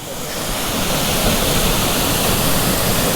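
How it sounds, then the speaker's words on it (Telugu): Manikyadhara and Jhari waterfalls in Chikmagalur roar in a steady, dense rush of falling water, loud and unbroken throughout, with no voices. "మాణిక్యధార అండ్ జారీ వాటర్ ఫాల్స్"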